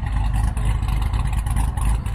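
Deep, loping Corvette engine burble with a rough, throbbing idle, loud and close, pulsing unevenly like a lumpy cam.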